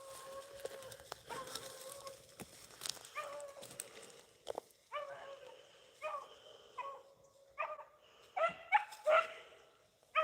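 Rabbit-hunting dogs outdoors give a series of irregular barks, yips and high whines, some close and some farther off, scattered across a quiet wooded background with occasional bird sounds.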